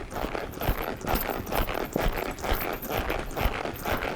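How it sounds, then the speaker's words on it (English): A gaited horse canters in a steady three-beat rhythm of close, distinct hoofbeats that repeats without a break, with no talking over it. "Nice canter there."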